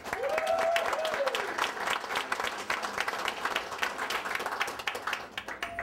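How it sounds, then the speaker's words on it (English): Crowd applause at an outdoor community festival, the Bayou Dularge Trash Bash, a steady dense wash of clapping from many people, loud and sustained throughout, with a few voices mixed in. "Y'all give yourselves a hand of applause."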